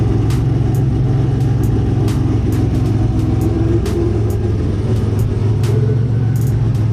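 A 1987 Buick Regal turbo engine idles steadily while warming up, freshly fitted with a new radiator and downpipe, giving a continuous low rumble with faint clicks and ticks above it and no voices.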